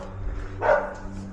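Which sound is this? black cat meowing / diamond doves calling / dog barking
dog barking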